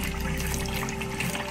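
Water pours and churns steadily into a film developing tank during a vigorous wash after developing Ilford Pan F 50 film, a continuous close splashing rush with no talk.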